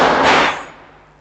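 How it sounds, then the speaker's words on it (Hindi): A single firecracker bursts with one sharp, loud crack whose noisy tail fades away within about a second. "पटाखा फूट रहा है।"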